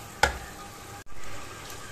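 Fish curry masala sautéing and being stirred in a pan: a steady soft sizzle with one sharp scrape of the spoon early on and a brief break before the frying resumes.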